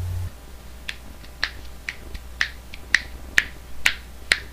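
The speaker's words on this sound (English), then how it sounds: "Snapping noise." A series of about a dozen sharp finger snaps, close and fairly quiet, in an uneven rhythm over a low background hum. No one talks.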